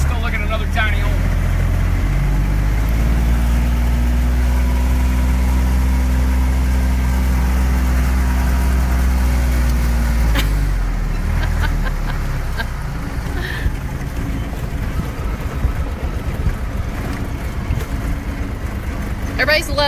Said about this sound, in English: here comes the diesel noise again